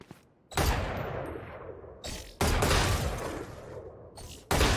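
A weapon in Valorant is hip-fired in loud, close bursts of rapid shots, three sharp volleys each trailing off into a ringing tail, with no voices.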